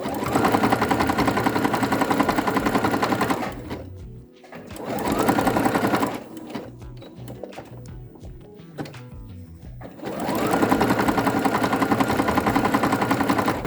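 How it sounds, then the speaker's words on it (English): A sewing machine stitches strips of fabric, its fast, steady mechanical whirr running loud and close in long bursts. The middle stretch turns quieter and more broken before the motor speeds back up at full volume. "We just start sewing it, and then we need to wrap the fabric around as we sew."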